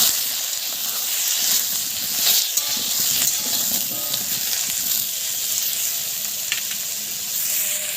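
Diced cauliflower and potatoes frying in a little oil in a wok, a steady close sizzle and hiss with stirring scrapes, no talk over it.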